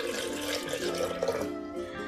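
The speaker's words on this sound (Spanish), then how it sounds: "este es el agua donde cocí los chiles. Le voy a poner poquita agua." Water left over from cooking chiles poured into a pot of charro beans, a continuous close splashing pour that thins out toward the end.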